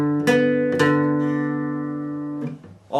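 Guitar picks a short group of notes from a song riff, two plucked attacks ringing out clearly and sustaining before a brief fretting scrape at the end, alone with no talk.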